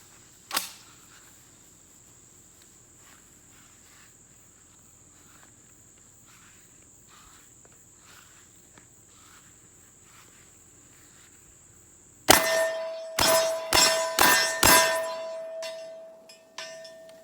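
A Rock Island Armory VR80 12 gauge semi-auto shotgun fired outdoors: one early shot, a long quiet stretch with insects chirping, then a rapid string of about five loud close blasts with ringing echoes.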